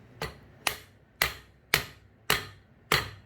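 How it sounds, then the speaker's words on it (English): Six sharp wooden knocks from the wooden end of a hammer tapping a bearing into a Panasonic KDK National ceiling fan, evenly spaced about half a second apart, close and crisp with short decays. "I'll use the hammer, but it's wooden portion. Just knock the thing in."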